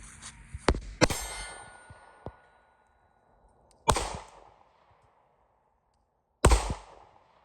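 A Glock 43X ported pistol fires double taps at an outdoor range with steel targets, three sharp cracks, the first two close together, each followed by a short echo and quiet gaps between them.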